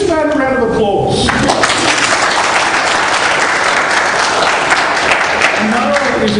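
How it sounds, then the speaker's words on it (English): A dense, loud round of applause from a panel audience fills the room steadily throughout, with voices mixed in beneath the clapping. "Give this man a round of applause"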